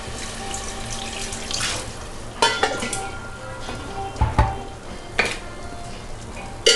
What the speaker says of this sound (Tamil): ஸோ இதில் வந்து 2 கப்ஸ் நான் ஊற்ற போகிறேன்.